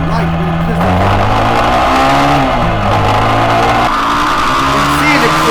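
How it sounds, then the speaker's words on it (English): A Lifan KPR 150 single-cylinder 150cc motorcycle engine revs and accelerates, its pitch climbing and dropping through gear changes, loud and close, with a voice talking over it. "You can see it accelerating right from the start."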